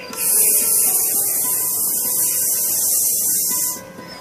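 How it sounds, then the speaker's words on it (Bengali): Gas rushing out of a just-opened bottle of fermenting rice water, a sustained bright hiss lasting a few seconds before cutting off sharply, close and loud with no talk. "এটা খুললেই একটা গ্যাস বেরোবে এবং সুজ করে খুব আওয়াজ হবে"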